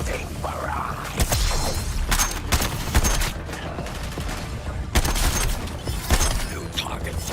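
A dense barrage of gunfire in the Suicide Squad: Kill the Justice League video game, with rapid shots and booms layered over game sound effects and a speaking voice.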